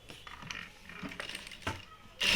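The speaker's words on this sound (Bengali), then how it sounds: "এখন আমি সেলাই করে দেখবো আমার সেলাই ঠিক আছে কিনা, মেশিনের সুতা কাটে কিনা।" A Jack F4 sewing machine stitching after a tension spring repair produces faint, quick mechanical clicking and ticking in an uneven run, ending with a louder burst of motor noise.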